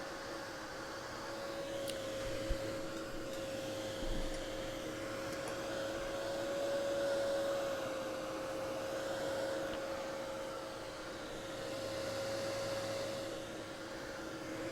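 A hair dryer runs steadily for the whole stretch, blowing over a wet watercolor wash on paper, a continuous whirring hiss with a faint tonal whine, slightly rising and falling as it moves, with no voices.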